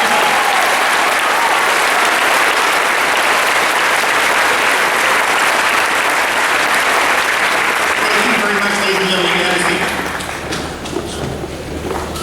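An audience at a school student recognition ceremony claps loudly and steadily for about ten seconds, then the applause thins and fades out. Voices murmur underneath.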